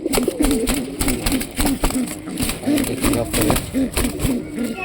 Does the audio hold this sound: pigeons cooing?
yes